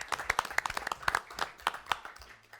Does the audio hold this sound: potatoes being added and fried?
no